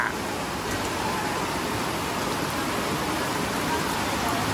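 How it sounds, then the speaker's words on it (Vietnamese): Heavy monsoon rain pours at a Chiang Mai night market, a loud, dense, steady hiss of downpour on surfaces that fills the whole stretch without pause. "Tự nhiên trời mưa lớn, làm ai nấy chạy quá trời."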